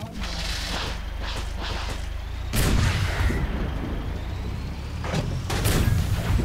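Heavy tank cannon blasts in the dinosaur-horde shooter game Orion Dino Horde, two loud booming shots about three seconds apart with rumbling low-end tails over a steady background of game noise.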